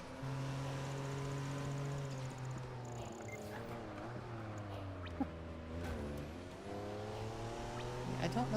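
A supercar engine from the Project Gotham Racing 4 video game drones steadily at a low pitch, rising and shifting as it accelerates, while someone talks over it.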